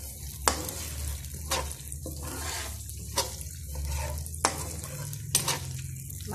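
Chicken stirred with coconut paste (kerisik) in a pan under a low, steady sizzle. Distinct spoon scrapes against the pan recur every second or so.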